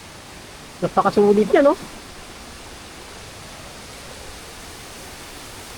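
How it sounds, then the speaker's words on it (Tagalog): Mother Falls, a waterfall in Aurora in the Philippines, gives a steady, even rush of falling water that fills the whole stretch, with a short burst of someone talking early on. "Grabe yung falls, oh."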